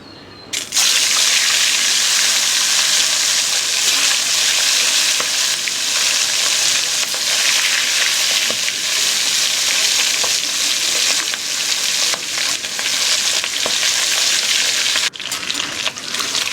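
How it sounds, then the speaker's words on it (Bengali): Fish heads fry in hot mustard oil in a kadai, giving a loud, close, steady sizzle and crackle that runs on for many seconds, dipping briefly near the end. "এবার আমি মাছের মাথাগুলো ভেজে নেব।"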